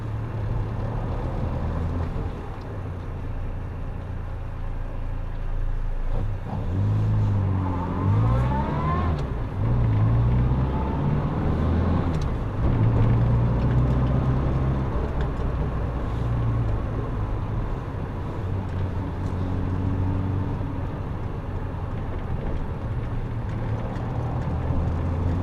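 A Morris Minor's engine drones steadily while driving on a chilly day, with the pitch rising and falling through gear changes and a low, continuous rumble.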